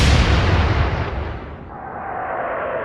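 Naval artillery fire and a large shell explosion in the World War II naval strategy game Atlantic Fleet, a heavy booming blast that rolls off into a long fading rumble, loud and close with no talk.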